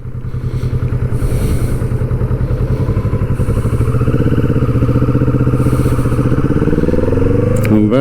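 Kawasaki Vulcan S motorcycle engine running loud and steady through gear changes, a low pulsing thrum that rises in pitch as it shifts, close by with no talk.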